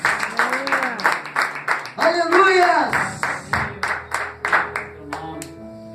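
Church congregation clapping rhythmically during a Portuguese sermon, a steady beat of claps near and loud, with voices shouting and singing praise over it.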